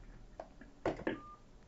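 A DINSTAR SIP phone plays a few short dialing tones, then a brief steady tone, faint and close.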